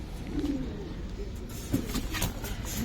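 Giribaj pigeons in a small cage give soft, low coos close by, with a few rustles and shuffles in between.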